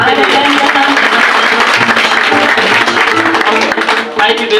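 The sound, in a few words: audience applause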